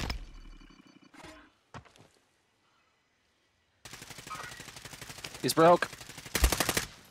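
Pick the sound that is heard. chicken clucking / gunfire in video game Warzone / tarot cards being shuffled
gunfire in video game Warzone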